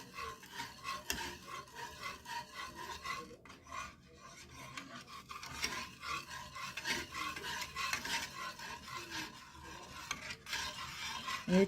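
Lumpia vegetable filling stirred with soy sauce, rhythmic scraping and rubbing strokes of a spoon through the mixture, close and repeated at a steady pace with a faint sizzle beneath.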